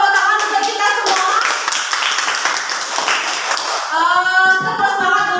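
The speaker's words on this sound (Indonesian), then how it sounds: "Kalau tepuk tangan untuk kita semua." Classroom of students clapping together, a steady dense burst of applause lasting several seconds, with a teacher's voice speaking over the start and again as the clapping fades.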